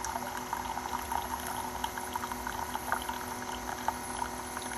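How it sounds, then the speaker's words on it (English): A Keurig K-Mini single-serve coffee maker heats water and brews, giving a steady close bubbling, hissing gurgle with small irregular pops throughout, heard alone without talk. "out comes the coffee once it heats up the water, which it just did"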